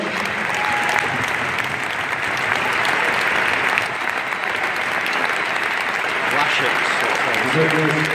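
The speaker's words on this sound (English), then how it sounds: "He's getting a big round of applause" Football stadium crowd at an Everton home match applauding a substituted player, Aaron Lennon, as he comes on; broad sustained clapping and crowd noise fill the whole stretch at steady loudness, with a faint voice briefly audible.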